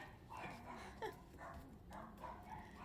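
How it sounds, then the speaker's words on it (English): Several dogs bark and yip faintly in the background indoors, their short, irregular calls sounding distant and soft. "Ignore the dogs barking in the background."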